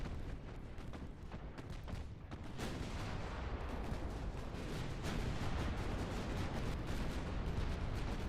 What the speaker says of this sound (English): that's a whole lot of freaking 13-inch shells going from those battleships